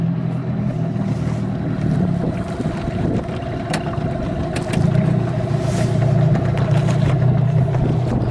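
An outboard motor drones steadily while a boat backs down slowly, a loud low engine hum with wind noise across the microphone and no talk.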